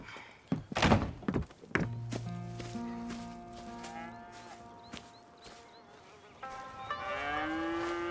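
Cattle low several times on a farm in Red Dead Redemption 2, with long sustained moos among livestock, preceded by a few heavy thunks and soft background ambience.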